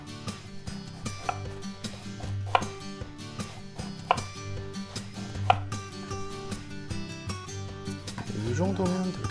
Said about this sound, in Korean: 양배추를 아주 얇게 써시면 돼요